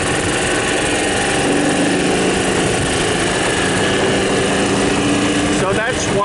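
A Club Car golf cart engine that has trouble starting and stalls runs steadily, droning close and loud with an even, buzzy small-engine hum and a faint rattle. It is heard alone, without talk, for the whole stretch.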